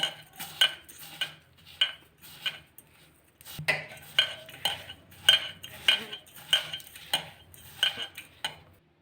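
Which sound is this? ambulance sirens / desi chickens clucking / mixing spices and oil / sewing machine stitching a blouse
mixing spices and oil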